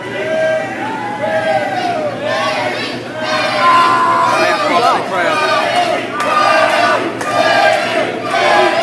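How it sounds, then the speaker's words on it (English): A pro wrestling arena crowd roars and cheers for the champion "Loco Lobo" Barry Wolf, loud surging chants and shouts swelling in waves, with a commentator's voice mixed in. "Looks like the crowd has switched and are cheering for the champ, Barry Wolf"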